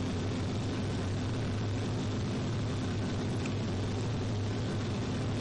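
Steady, loud jet engine roar with a broad rushing hiss of a Boeing 737 accelerating along a runway in the Flight Simulator 2004 game, continuous and unchanging throughout.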